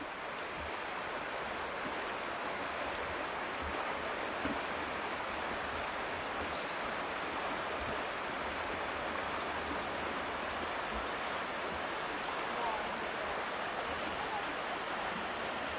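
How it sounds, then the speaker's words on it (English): River flowing below the Luxulyan viaduct in Cornwall, a steady broad rush of water heard continuously at moderate distance, with faint voices talking now and then. "So what river's this, Bob?"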